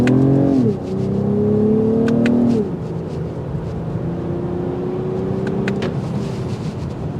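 A 2024 Lexus ES 350 F Sport with its 302-horsepower engine accelerates hard, the engine note climbing loud and close through two rising gear pulls with a shift between them, alone without talk.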